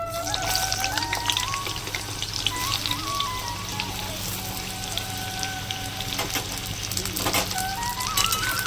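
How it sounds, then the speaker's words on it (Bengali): Pointed gourd (potol) frying in oil left from potatoes, without turmeric, for an eggplant and potato curry: a steady, dense crackle and sizzle runs throughout with no speech, fairly close and even in level. "এবার আমি পটলগুলো ভেজে নেবো সব একই তেলের মধ্যে"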